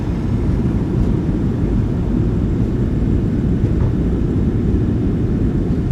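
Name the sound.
airliner landing and decelerating, from video game MSFS2024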